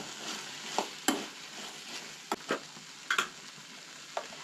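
A spoon stirring a Goan white peas curry mixture in a pan, with soft scraping over a low steady sizzle and a few sharper knocks against the pan.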